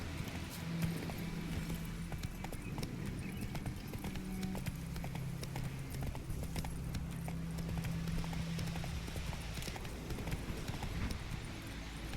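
Roach the horse's hooves clip-clop steadily and continuously in The Witcher 3, a regular trotting rhythm close by with ambient game sounds underneath, and no voices.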